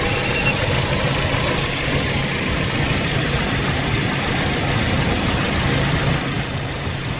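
A car engine leaking oil idles steadily up close, a continuous low rumble with a faint knocking texture and no voices.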